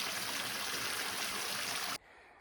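Water trickling and splashing steadily from the small Crystal Well fountain beside a well, a continuous close bright wash that cuts off abruptly near the end, leaving quieter outdoor ambience.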